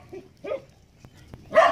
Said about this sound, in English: You see these crazy puppies?